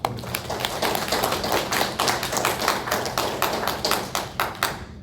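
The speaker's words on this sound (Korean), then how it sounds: "우리 모두 하나님께 영광의 박수" A church congregation at a Sunday worship service in Sejong claps together in a fast, steady rhythm. Many hands sound close in a roomy space, keeping an even beat to the end with no talking.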